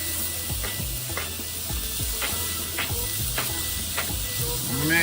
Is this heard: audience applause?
no